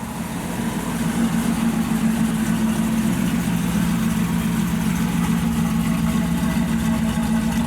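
A 1967 Chevrolet Camaro with numbers-matching drivetrain and factory dual exhaust through a transverse muffler idles steadily, a close, even low rumble that holds for several seconds with no voices.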